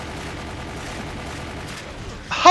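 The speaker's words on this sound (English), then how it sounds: "How much do I have to shoot this arm?" Continuous gunfire from the Resident Evil: Chronicles HD video game aimed at a boss's arm, a dense unbroken fusillade of rapid shots at steady loudness, ending in a brief louder burst.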